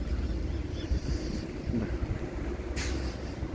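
Steady wind buffeting and rumbling against the microphone, a low constant roar with no voices.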